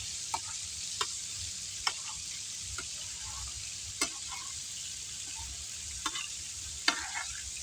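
Chicken karahi sizzles and fries steadily on a large flat tawa over high heat, with scattered sharp scraping ticks of a stirring spoon at irregular intervals, close and with no voices.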